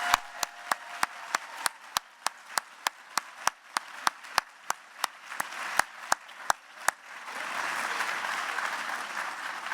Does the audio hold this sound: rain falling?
no